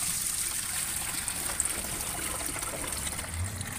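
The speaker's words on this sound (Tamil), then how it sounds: "இப்போது அதை தண்ணி ஊற்றிட்டு" Water pours steadily into a fish tank in a continuous trickling splash, close by and moderately quiet, with no voices.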